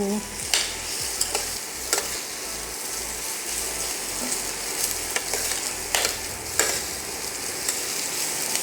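Mixed vegetables including tondli fry in a pan while being stirred, a constant close sizzle punctuated by regular scraping and clacking spatula strokes against the metal.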